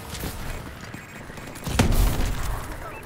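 A grenade goes off in a Call of Duty match with a sharp crack and a deep, rumbling boom, set against ongoing background battle noise and distant gunfire.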